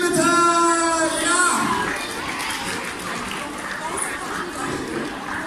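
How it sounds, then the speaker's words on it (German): Audience clapping for a child at a magic clown show, a short burst of applause that fades quickly while an adult voice calls out over it at the start. "Großen Applaus für die Lili, bitte!"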